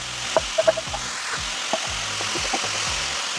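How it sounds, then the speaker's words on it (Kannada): Grated carrots fry in hot ghee for carrot halwa, giving a steady, close hiss and sizzle throughout, with a few small pops and crackles near the start and light stirring scrapes underneath. "ತುಪ್ಪಕ್ಕೆ ನಾನು ಕ್ಯಾರೆಟ್ನ ಹಾಕ್ಕೊತಾ ಇದ್ದೀನಿ"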